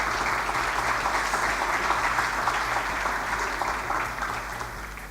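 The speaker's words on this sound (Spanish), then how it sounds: "un aplauso por favor" Audience applause at the opening ceremony of a youth arbitration congress, a dense, steady clapping from a large crowd that holds for about five seconds and eases slightly at the end.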